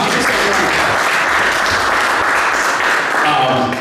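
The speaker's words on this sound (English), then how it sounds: "Please give yourselves all a round of applause" An audience at a startup talk on producing apps breaks into dense, loud applause that fills the room steadily for several seconds.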